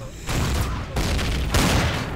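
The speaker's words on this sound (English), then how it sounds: "you just with your cannon blowing holes in everything" Cannon fire in the sci-fi game Empyrion booms in heavy, loud bursts, three rapid blasts with rumbling tails that run into each other, sounding close and forceful.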